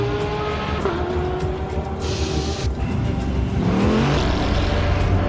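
GT3 race cars in a racing sim pull out of the pits at Spa, engines droning loud and continuous with shifting revs and a rising whine near the end. No one speaks.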